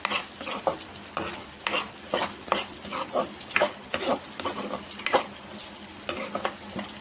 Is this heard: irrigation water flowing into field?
no